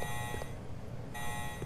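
A loud, steady electronic alarm rings continuously in the video game Resident Evil Code Veronica X. Its high, buzzing tone carries over a low background hum.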